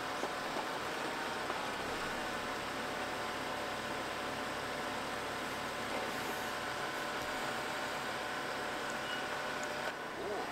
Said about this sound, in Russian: БМВ буксует на джинсах